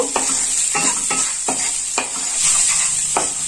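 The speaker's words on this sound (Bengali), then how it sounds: "এবার এটাকে আমি ভালো করে নেড়ে কষিয়ে নেব" A spiced prawn mixture with chilli powder and garam masala being stirred and fried, with a steady sizzle broken by about six rhythmic scraping strokes of a spoon against the pan.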